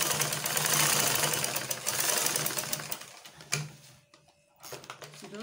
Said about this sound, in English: And then we'll sew.